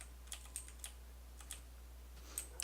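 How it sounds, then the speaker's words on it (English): A handful of sharp, separate keystrokes tap on a computer keyboard close by, spaced irregularly over a low steady hum. "I know my keyboard's really loud."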